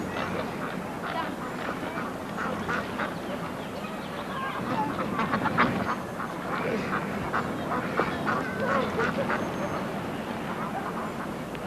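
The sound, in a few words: birds calling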